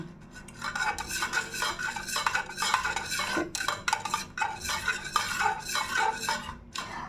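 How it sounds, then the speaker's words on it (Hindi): Candle wax mixture stirred in a container for wax sachets, a steady scraping and clinking of a utensil against the sides in continuous strokes, close and fairly loud, with no voices. "अब ये कितने मिनट तक इसको मिक्स करना है, 2 मिनट तक आपको मिक्स करना है।"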